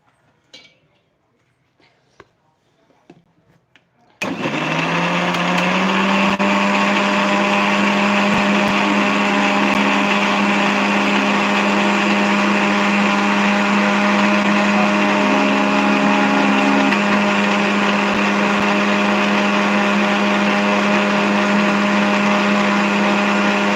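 A kitchen mixer grinder whirs into action after a quiet start, grinding masala with a loud, steady high-pitched motor drone that holds without a break for about twenty seconds.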